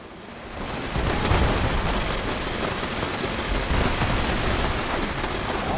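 Turrets firing in the video game Fallout 76, a dense, loud and steady barrage of rapid gunfire that starts suddenly and keeps going without a break.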